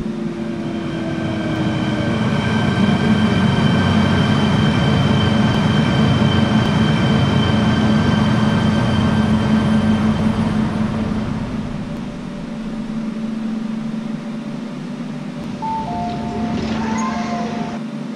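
A K-Train on the Tung Chung Line in the Hmmsim 2 train simulator rolls into a station with a loud, steady rumble and whine, then slows near the end, when a brief electronic chime sounds.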